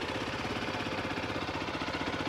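A single-cylinder 350cc Zontes sports-tourer motorcycle engine chugs at a steady idle, a close, rhythmic low thumping with a faint mechanical rattle.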